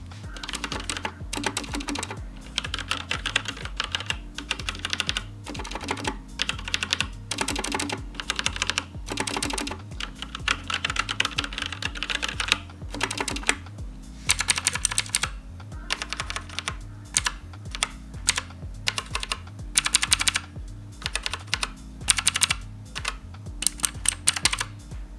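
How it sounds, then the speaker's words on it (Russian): A Sharkoon Skiller Mech SKG3 mechanical keyboard with Kailh Red switches is typed on steadily and continuously, giving close, crisp clacks in quick bursts with brief pauses between them. "Давайте послушаем, как она звучит."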